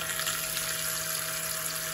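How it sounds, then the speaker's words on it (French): Hot water runs steadily from a household tap, a constant hiss with a faint hum underneath that stays even and close. "Je vais mettre l'eau chaude."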